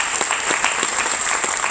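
A crowd claps steadily, brisk applause continuing without pause.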